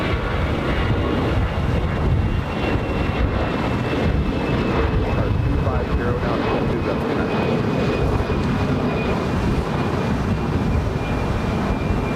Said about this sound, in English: Lufthansa A380 Super starting taxi.